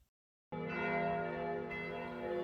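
Church bells of a château church in Burgundy ring out loud and sustained after a moment of silence, their rich overlapping tones sounding continuously without pause.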